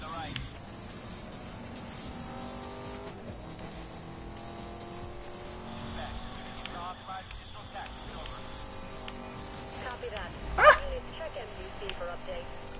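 A Bugatti races in Need for Speed: Most Wanted (2012), its engine droning steadily at high speed with a brief tire squeal, while a player talks over it throughout.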